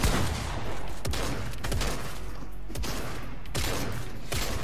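Rapid gunfire from a pistol in the video game Fortnite, a string of sharp cracks spread over several seconds against a steady, busy game soundscape.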